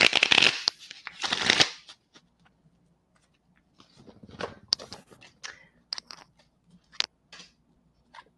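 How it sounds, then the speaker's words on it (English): Oracle cards are shuffled with two loud, riffling bursts up close, then fainter slides, flicks and taps as cards are pulled, with near silence between. "Let me pull some cards and anchor this in."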